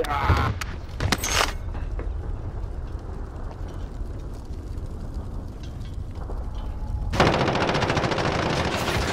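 Rapid automatic gunfire in a video game bursts in at the start, followed by a sustained rumbling din, then another dense burst of fire near the end, loud and continuous.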